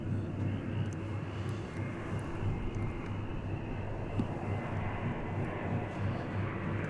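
Airliner arriving at DFW Airport on a flight in from San Diego, California, giving a steady, moderate low rumble of engines that holds evenly throughout with no voices.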